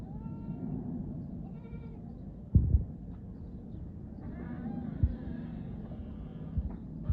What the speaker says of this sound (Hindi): ये बकरी है अल्हम्दुलिल्लाह हमारी।